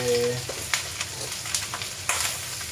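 Liver hits a hot pan and fries for igadong Iloko, a steady sizzle with scraping stir strokes and occasional sharp clinks of the utensil against the pan.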